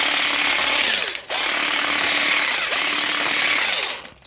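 A Bauer hedge trimmer from Harbor Freight running at full speed, a loud, steady high-pitched buzzing drone that dips briefly once and then cuts off at the end, close by.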